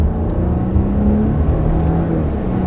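The turbocharged 3-liter V6 of a 2020 Audi Q7 TFSI 55 produces a steady, loud engine drone with a low hum, unbroken and with no talk.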